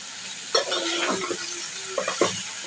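Winter vegetables being sautéed and stirred in a pan make a soft sizzle under repeated scraping and clattering stirs, some strokes sharper than others, with a few faint voiced sounds in between.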